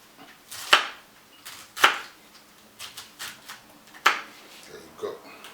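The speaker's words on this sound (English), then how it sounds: "And just cut it up into just sizes that are manageable enough for you to blend." A knife chops cauliflower into pieces on a board, giving several sharp, separate cuts spaced irregularly over a few seconds, close and fairly clear in a quiet kitchen.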